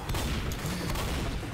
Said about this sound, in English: I think I just shot straight at Francis there